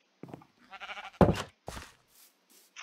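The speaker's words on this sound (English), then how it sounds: "Some sheep." Sheep bleating in Minecraft, a few short blocky bleats spaced apart, moderately loud against a quiet game background.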